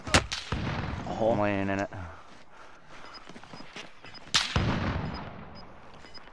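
Sharp gunfire cracks in a video game shooter, with long-range sniper shots arriving as a few loud isolated bangs, and a player talking between them.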